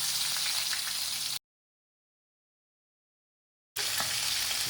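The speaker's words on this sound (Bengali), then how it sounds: "তেলটা গরম হয়ে গেছে, এক এক করে মাছগুলো ছাড়বো।" Sating fish sizzle in hot oil with whole cumin and ginger-garlic paste, making a close, bright, crackling hiss that cuts to silence for a couple of seconds and then resumes just as strongly.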